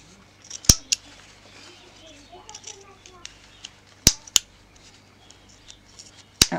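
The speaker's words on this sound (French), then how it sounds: "On coupe le fil." Scissors snip thread while a fabric face mask is sewn, giving a few sharp, close clicks spaced through the clip with quieter handling noise between them.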